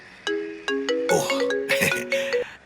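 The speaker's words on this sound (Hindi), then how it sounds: "मैं टेरेस पे आके आपको फोन करने ही वाला था, क्लैरिफाई करने के लिए क्या हुआ इतने में आपका फोन आ गया" A mobile phone ringtone plays an incoming call, with a melodic electronic tune of repeated tones and chimes, loud and close, with no talk over it.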